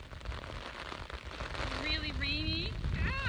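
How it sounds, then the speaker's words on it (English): Heavy rain and wind from extreme storm footage make a constant rushing hiss throughout, with a person's voice cutting in over the noise. "Really rainy."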